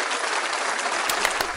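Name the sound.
applause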